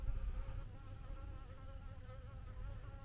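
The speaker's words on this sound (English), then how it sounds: "Can you see the bee? You might be able to at least hear it." A bee buzzes close around a person's face in a garden with raised beds, a steady, wavering drone that rises and falls in pitch as it circles near the microphone, with no talking.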